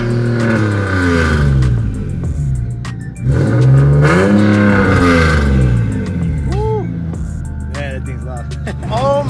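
A turbocharged Infiniti G37 with its boost leaks fixed revs hard up close, with a deep, loud exhaust roar that climbs and falls in repeated sweeps, then several quicker throttle blips near the end.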